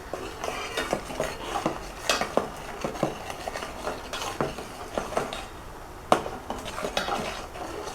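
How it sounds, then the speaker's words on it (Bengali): Spoon stirring boiling milk with grated coconut in a pot, with repeated scraping and clinking strokes against the metal in an irregular rhythm, close and fairly loud, no talking. "যেহেতু নারকেল দেওয়া আছে একটু ঘন ঘন নেড়ে দিবেন"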